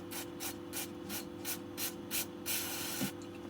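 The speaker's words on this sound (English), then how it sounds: "I do find that the pressure of the brake clean does wonders for cleaning things" Brake cleaner sprayed onto the parts of a Suntour HESC e-bike hub motor: a string of short, even aerosol hisses in a steady rhythm ends in one longer burst, heard up close with no talking.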